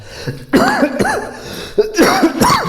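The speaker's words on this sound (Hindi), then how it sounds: "तबीयत खराब है बाबू, खांसी हो रहा है" Someone close by with an illness coughs in a few harsh, repeated bursts with short pauses between them, raspy and loud.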